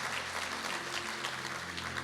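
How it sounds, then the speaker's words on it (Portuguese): Congregation applauding during a church service, a soft continuous wash of clapping heard from some distance, faint, with a steady low hum beneath. "Você pode dar um aplauso a Ele?"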